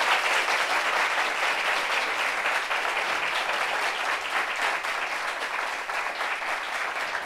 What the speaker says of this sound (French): Applaudissez sérieusement.